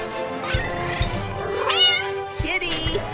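A cartoon cat meows several times in a construction-site crane rescue scene, the cries rising and wavering over background music and light thumps.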